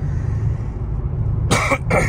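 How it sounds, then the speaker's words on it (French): A single sharp cough near the end, loud and close, after a couple of seconds of low background hum. "Je vais tousser, attendez."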